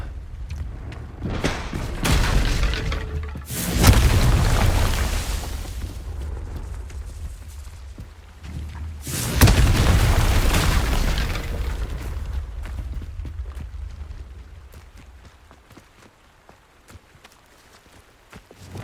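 Confringo blasting spells in the Hogwarts Legacy video game, with two loud booming explosions a few seconds apart, each rumbling away slowly, among scattered footsteps and combat noise.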